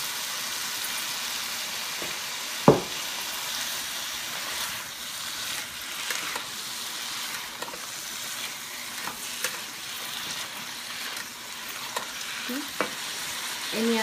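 Chicken for butter chicken fries in a pan on the stove and is stirred, giving a steady close sizzle with occasional scraping clinks of the spoon against the pan and no voices.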